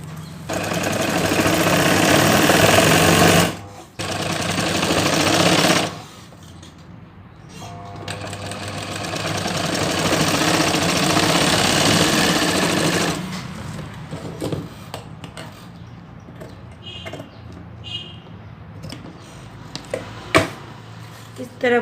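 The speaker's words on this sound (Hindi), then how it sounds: "इसी तरह पूरे राउंड में हम सिलाई लगाएंगे।" A sewing machine stitches the border trim around a bridal lehenga, running in loud rapid bursts with brief pauses, while someone talks between and over the stitching.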